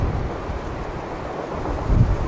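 Wind buffets the microphone at a railroad trackside on a rainy day, producing a continuous low rumbling roar that swells into a stronger gust near the end.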